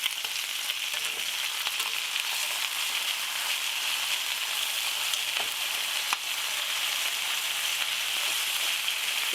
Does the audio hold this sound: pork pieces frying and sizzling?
yes